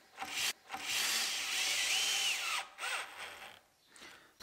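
A power drill spinning a countersink bit into a timber frame-and-brace side gate, a loud steady whir of about two seconds with brief starts and stops around it, close and alone without talk.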